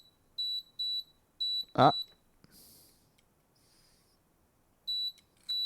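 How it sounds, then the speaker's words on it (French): Short high electronic beeps from a cordless screwdriver's charger or battery under repair, signalling a short circuit; four quick beeps, then a loud thump and a brief pause before two more beeps, with a short spoken interjection. "Bip bip, ça veut dire court-circuit"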